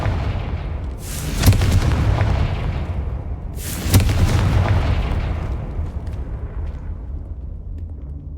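Two heavy booming fire-spell explosions from the Confringo spell in Hogwarts Legacy burst about two and a half seconds apart, each a loud blast that rumbles away slowly, with no talking.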